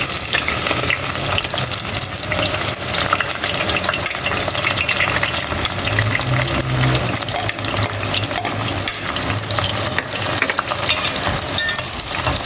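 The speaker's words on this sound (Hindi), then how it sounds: "अब हम इसके अंदर प्याज डालेंगे, प्याज को गोल्डन फ्राई करेंगे" Onions frying in hot oil in a pot, a steady dense sizzle and crackle that runs loud and close for the whole stretch with no talking.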